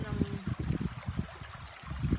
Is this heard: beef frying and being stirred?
no